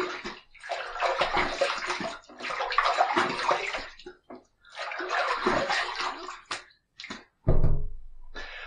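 Water runs from a tap to rinse after a shave, a close splashing hiss in several bursts with short pauses and hand splashing between them.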